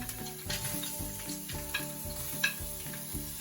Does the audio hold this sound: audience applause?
no